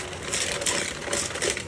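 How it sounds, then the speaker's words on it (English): A hand mixer whirs steadily as it creams butter and sugar together for a sheet pan cake, a loud close buzzing drone with a faint rattle against the bowl. "we're going to cream the butter and the sugar together. All right. So we take our hand mixer"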